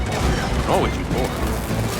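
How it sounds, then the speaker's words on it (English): Weapon reload in Gears of War 4 during combat, quick mechanical clicks and clacks of the gun mechanism amid loud game noise, with a voice speaking over it. "Unit reloading."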